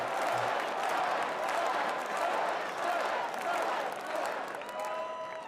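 Dense clapping and crowd applause fill the hall at the Republican National Convention, a loud, sustained patter close to the microphone with a few tonal sounds near the end.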